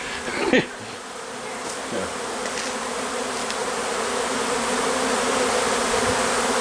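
A dense, steady insect buzz like a swarm of bees, filling the whole clip and growing slightly fuller, with a brief rustle near the start.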